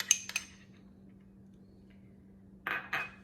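A utensil clinks against the bowl while lemon juice and Dijon mustard are stirred into chicken salad: a few quick, light taps at the start, near silence, then another pair of clinks near the end.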